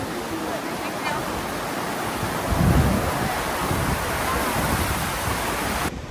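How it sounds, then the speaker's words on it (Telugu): A river rushing along a valley trail near waterfalls, heard as a steady, broad wash of flowing water with some wind buffeting, fairly loud and continuous throughout. "చూడండి గైస్ బ్యూటిఫుల్ రివర్."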